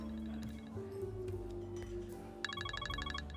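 A mobile phone ringtone sounds in a noisy indoor setting, entering partway through as a rapid series of bright, repeating electronic tones over a steady background hum.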